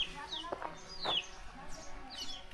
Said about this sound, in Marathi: दिवसभर कोंबड्या अशाच बाहेर राहतात